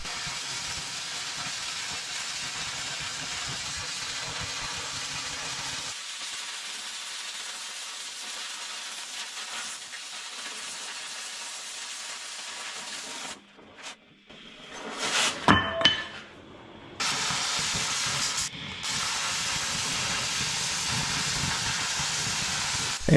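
An acetylene cutting torch fitted with the proper tip roars with a steady, loud hiss as it cuts the worn cutting edge off a skid steer bucket. The hiss drops out briefly, then returns with a few metallic clinks and pops.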